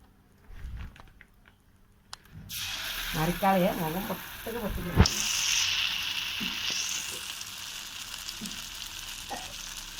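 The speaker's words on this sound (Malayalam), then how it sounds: "നമ്മുടെ ചമ്മന്തി തേച്ച് വെച്ച ആ മുട്ട ആ മാവിൽ മുക്കിയിട്ട് നമുക്ക് നല്ല ഒന്ന് ചൂടായി തിളച്ചൊരു എണ്ണയിലേക്ക് എടുത്തിടാം" Batter-dipped egg bajji, the eggs coated with chutney, drop into hot boiling oil; a loud sizzling crackle starts suddenly after a couple of seconds and keeps bubbling steadily, with faint handling noises early on.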